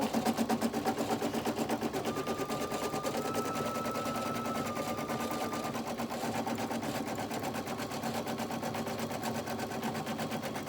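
Embroidery machine stitching a design onto a kids shirt: fast, continuous mechanical needle chatter with a steady rhythmic rattle throughout, close and even, with a faint tonal whine in the middle.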